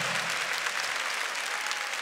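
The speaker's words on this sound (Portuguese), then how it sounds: "E aplauda esse vencedor que está aí do seu lado" A church congregation breaks into steady, dense applause, many hands clapping together at close range and filling the space evenly throughout.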